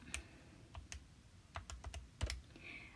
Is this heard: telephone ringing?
no